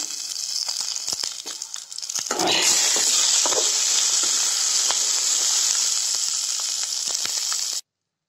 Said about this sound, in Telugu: ఇందులోనే కరివేపాకు కూడా వేసుకొని వేయించుకోవాలా.